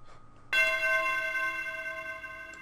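A single bell-like tone from a trap beat's drum kit sounds after a brief pause, bright and clear, then rings on steadily and slowly fades.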